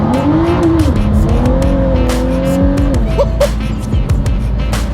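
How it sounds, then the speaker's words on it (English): A hypercar launches hard from a standstill, its engine note climbing and shifting through gears in loud, close, sustained pulls, with brief tire and wind noise layered over the roar. "That was like the smoothest takeoff of that sort that I've ever been in before in my life."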